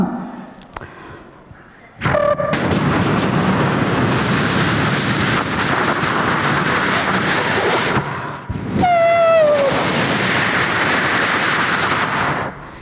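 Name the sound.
beatbox imitation of passing train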